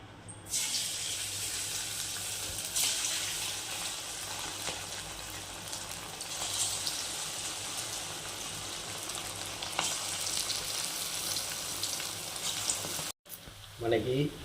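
Chicken pakoda in cornflour and egg batter drops into hot oil on a low flame, giving a steady, close, bubbling sizzle that runs unbroken for the whole stretch, cutting out briefly near the end.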